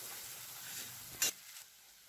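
Quiet, steady sizzle of spices, turmeric and red chili powder, frying in a pan for brinjal curry, with a brief louder hiss from stirring midway.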